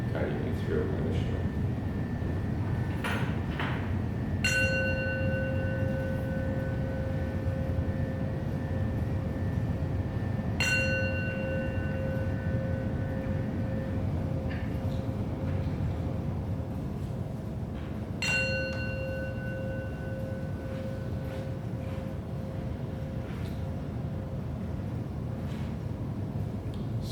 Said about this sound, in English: with 3 rings of the bell